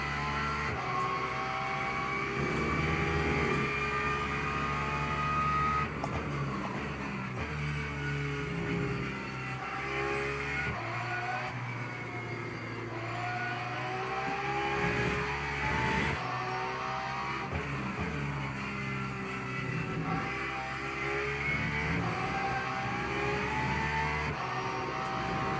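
Porsche race car in Le Mans Ultimate, its engine droning loudly and continuously, rising and falling through gear changes and revs with a few downshifts, with no talk.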